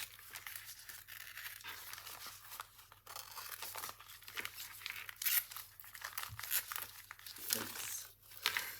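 Paper skirt pattern being cut out with scissors, a run of close crinkling, rustling and snipping as the sheet is handled and cut, uneven and busy with brief louder crackles.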